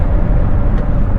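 A Chevrolet Cruze drives along, its engine and road noise forming a steady low rumble from inside the cabin, continuous and fairly loud with no talking.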